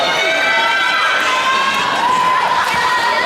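A crowd cheers and shouts steadily for singers at a Hura Tahiti solo eliminations dance competition, a dense, sustained roar with whoops and raised voices throughout.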